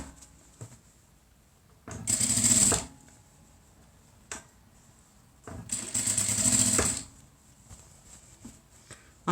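A sewing machine topstitches a hem on a small fabric bag in two short, steady bursts of fast whirring with a quiet pause between them.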